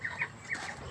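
Grown ducks calling inside their pen, giving a few short, close clucking quacks in quick succession with brief pauses between them.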